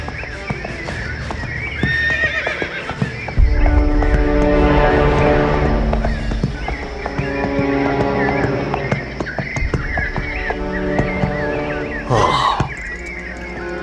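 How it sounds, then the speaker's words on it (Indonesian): Horse neighing and whinnying on a narrow path lined with waru trees and bamboo thickets, with clip-clopping hooves; repeated loud whinnies and a sharp squealing neigh near the end, no talking. "Sepertinya aku mendengar ringkik kuda."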